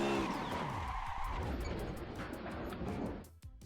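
Tires skidding and squealing under hard braking in a driving simulator game, a sustained harsh screech with engine noise that stays loud for several seconds before cutting off near the end.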